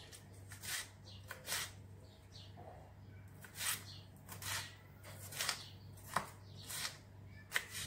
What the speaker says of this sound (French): Tous les légumes, je vais les couper comme des frites.